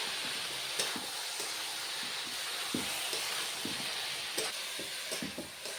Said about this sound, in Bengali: এবার আমি বড়িটা দিয়ে দেবো। নেড়ে নেবো ভালো করে।